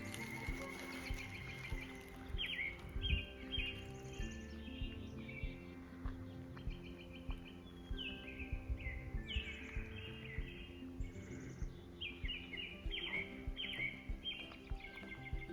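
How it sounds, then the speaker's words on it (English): Several birds chirping and calling in quick, repeated bursts throughout, over a low steady background rumble, with occasional knocks, at a bush campsite among trees, no speech. "All around me I'm hearing bird calls."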